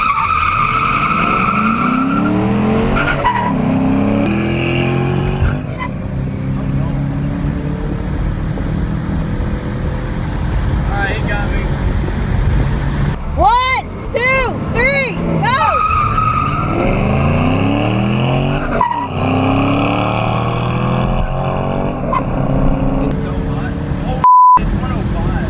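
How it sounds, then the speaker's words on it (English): A four-cylinder car engine revs hard as tires squeal and skid, screeching in long wavering tones, while people talk and shout nearby. "I need to warm my tires up"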